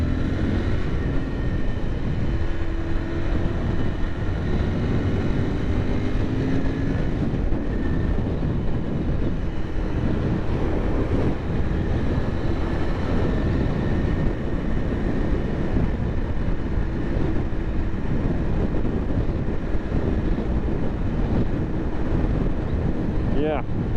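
A Royal Enfield Interceptor 650 motorcycle on a first ride, its steady engine drone running beneath heavy, constant wind rush for the whole stretch.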